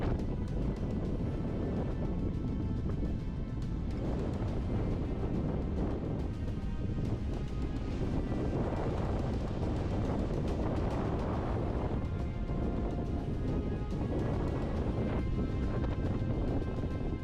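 Strong wind on an open autumn plateau in the Causses buffets a mountain biker's microphone in a continuous, heavy, low roar that swells and eases in gusts, with no voices.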